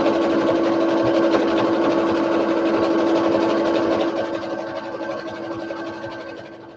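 A sewing machine runs steadily as it stitches a holiday table runner, a continuous loud mechanical whir with a humming drone that eases slightly toward the end, with no talking.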